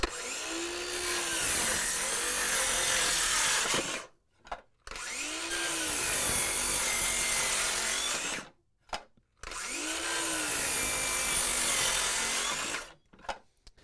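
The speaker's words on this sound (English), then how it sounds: "we'll start off with the Dewalt. I'm just going to cut on the left side of this knot" A DeWalt 6-1/2 inch circular saw cuts wood beside a knot, making three loud, close whining cuts of about four seconds each, separated by brief pauses.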